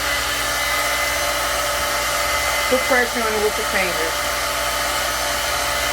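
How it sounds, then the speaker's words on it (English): A blow dryer runs steadily at high heat while drying hair on a lace front quick weave, a loud continuous rushing whir throughout, with someone speaking briefly over it. "Or you can sit with your blow dryer."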